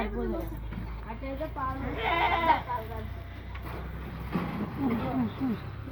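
Goat kids and lambs bleat repeatedly at close range, several quavering calls overlapping above a steady low background hum.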